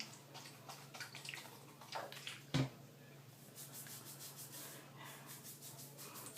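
Hair being rinsed through with an apple cider vinegar rinse: quiet, soft wet rubbing and scrubbing sounds with faint splashes and one brief louder wet knock midway, no talking.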